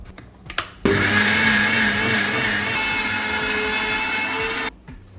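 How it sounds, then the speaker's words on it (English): A countertop blender grinding dry oats for pancake batter runs loud and steady for several seconds after a few short clicks, then cuts off abruptly. "अब इनको grind कर लेते हैं and then फिर इसे pancakes बनाएंगे"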